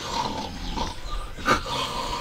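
A wet Rottweiler snorts and growls softly at close range, with breathy huffs over a noisy background.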